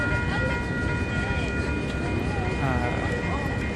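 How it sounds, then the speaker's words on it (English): A stopped train at the 11th Street SW level crossing in Calgary, heard as a steady low rumble with a sustained tonal hum throughout, while a person talks over it. "This train's been sitting here for 5 minutes"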